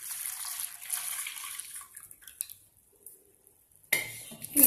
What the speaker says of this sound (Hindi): ये वाला पानी है ये हम इसे डाल देते हैं।